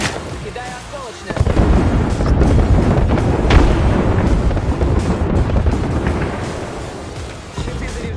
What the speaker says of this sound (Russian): Артиллерийский удар по моей команде.